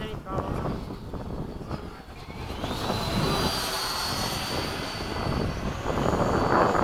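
An FMS 80mm Hawk RC ducted-fan jet cruising overhead on partial throttle, a steady airy whine that rises and falls in pitch as it passes, with wind buffeting the microphone and a voice talking over it.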